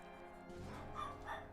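A dog barks somewhere in the house, faint and distant, a couple of quick yips over a low steady room hum.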